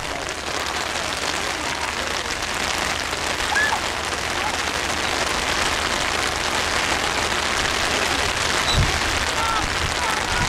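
Steady rain pouring down on an outdoor field during a youth soccer match, a dense, even hiss of drops that continues throughout, with occasional voices talking beneath it.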